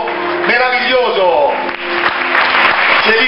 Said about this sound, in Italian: Vi lasciamo andare con un applauso meraviglioso.